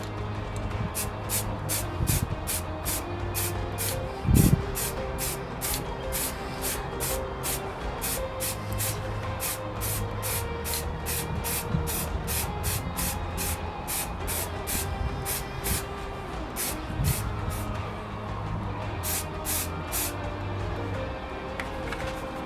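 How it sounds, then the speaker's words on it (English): An aerosol can of primer hisses in a long string of short, rapid bursts onto a 3D-printed sword, close by and steady, with faint background rumble and no talking. "I'm just going to use this spray can stuff"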